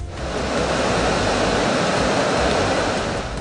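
The waterfall on the River Matez in Plateau State pours in a loud, dense, continuous roar of rushing water, steady throughout with no voices.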